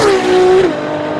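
A 2015 Ferrari LaFerrari, a 950-horsepower V12 hybrid, drives by with a loud engine whine that holds steady and then drops away after a brief surge, heard alone without voices.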